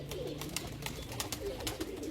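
Pigeons that have gone inside a net, with faint soft coos and fluttering clicks over a steady background noise and no voices.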